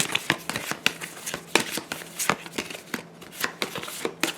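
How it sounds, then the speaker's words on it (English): A deck of cards for the Etherfields board game is shuffled by hand close up, giving a run of quick, irregular riffles and snaps at moderate volume with no talking. "We're going to take the slumber deck here. We're going to shuffle it up."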